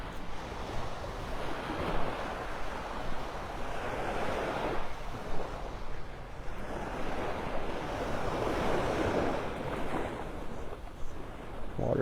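Ocean waves at Vanderbilt Beach in Naples, Florida wash ashore at an outgoing tide, swelling and receding every few seconds in a loud, continuous surf roar with gusts of wind buffeting the microphone.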